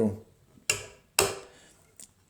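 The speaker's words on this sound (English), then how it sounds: "you can pull it back and it'll cock once" Hammer on a Hopkin & Allen underhammer muzzleloading gun being cocked, giving two sharp metallic clicks close up, followed by a fainter third click.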